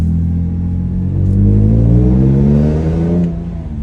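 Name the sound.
BMW M3 gearbox making an abnormal noise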